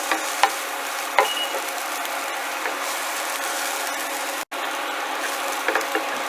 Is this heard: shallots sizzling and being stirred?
yes